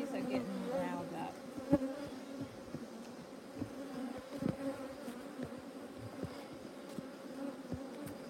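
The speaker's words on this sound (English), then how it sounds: "These bees are getting riled up." Agitated honeybees buzz at an opened hive, a dense, steady drone close by with sharper whines and bumps as individual bees fly past and strike the beekeeper's screen.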